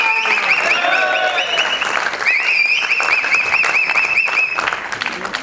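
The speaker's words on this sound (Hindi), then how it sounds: "तालियां जोरदार होनी चाहिए" Loud, sustained applause from an award ceremony audience greeting actor Sunil Shetty, dense clapping filling the whole stretch with crowd noise and a voice faintly under it.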